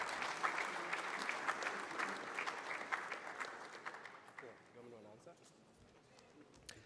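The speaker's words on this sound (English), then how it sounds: "Hands of applause." Applause from the audience at an award ceremony for green hydrogen pilot projects in Namibia, a moderate spread of clapping that thins and fades over the second half, with a few scattered claps near the end.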